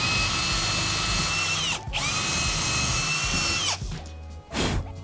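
A power drill bores pilot holes into the middle of wooden picture frames, a loud, steady high-pitched whine running almost continuously with two brief dips as the bit pauses.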